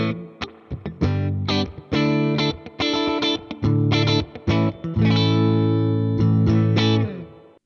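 Electric guitar through a Fender Tone Master Pro, miked with an R121 ribbon microphone right at the speaker cap, plays bright, distorted chords and riffs with rhythmic stops and sustained ringing notes, loud and close.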